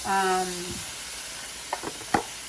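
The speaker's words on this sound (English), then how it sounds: "Just saute just for a few seconds." Garlic, broccoli and mushrooms sauté in a hot pan with a steady sizzle, a couple of soft utensil clinks near the end; a brief tonal hum sounds at the start.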